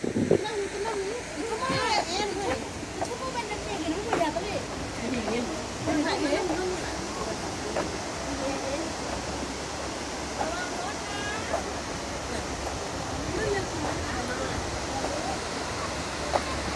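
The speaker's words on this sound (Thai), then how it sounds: "น้ำตกสวยมาก" A steady rushing roar of falling water at Thararak Waterfall in Mae Sot, Thailand, fills the scene, broad and constant, with a voice speaking over it now and then.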